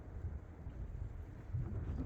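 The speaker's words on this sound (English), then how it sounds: "Oh, why does New Mexico have to be so windy?" Wind gusting across open New Mexico terrain, a steady low rumbling buffet on the microphone that swells slightly toward the end, with no voices.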